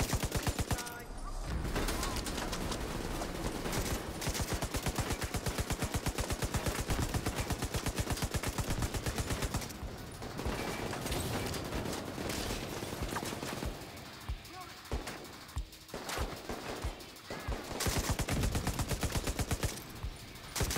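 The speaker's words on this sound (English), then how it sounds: "Gonna deploy my turret." A deployed turret firing in The Division 2, a continuous rapid stream of automatic gunshots running almost nonstop for twenty seconds, with a few brief gaps and dips, dense and steady.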